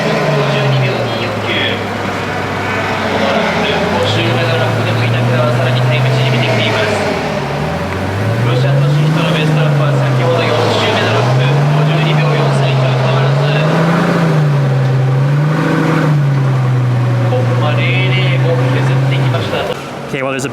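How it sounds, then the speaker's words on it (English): Pagani Huayra hypercar at Fuji Speedway being driven up onto a transport truck, its engine note rising and falling steadily for about twenty seconds as it maneuvers, with people talking throughout. "Gonna be loading up another Huayra onto the truck."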